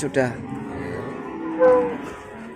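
Cattle at the Limpung livestock market in Batang, Indonesia, with one short, fairly close moo rising briefly out of a busy market murmur, and people talking around it.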